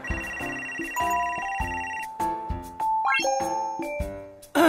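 A mobile phone ringtone plays for an incoming call, a bright synthetic melody of chiming electronic notes with a short rising run, close and clear with no talk over it.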